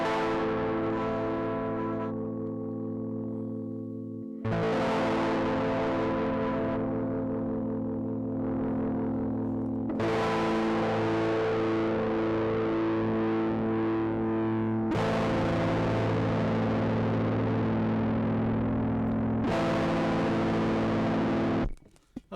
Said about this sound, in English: Okay, so that's full distortion